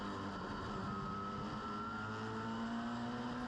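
Pro-4 race cars roaring around Meridian Speedway, a steady loud blend of several engines with rising pitch as the pack runs down the backstretch, no voices.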